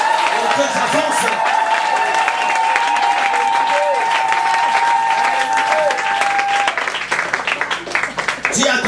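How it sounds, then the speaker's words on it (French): Congregation at a church sermon breaks into sustained applause and cheering, a dense wash of clapping with raised voices and a held sung or shouted tone running beneath, fading near the end. "Donne-moi les acclamations"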